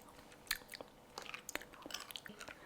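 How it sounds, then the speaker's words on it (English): Someone chewing a bite of lemongrass beef while tasting it, with soft, close, irregular wet chews and small crunches; quiet, no talking. "Let's taste."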